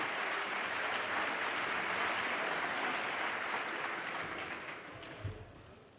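A political plenary audience applauds Sarkozy with dense, steady clapping that fills the hall and then gradually thins and fades toward the end.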